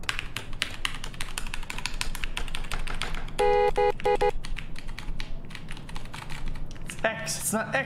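Computer keyboard keys clatter in quick irregular bursts of close, crisp taps, with a voice and electronic game tones mixed in between the typing.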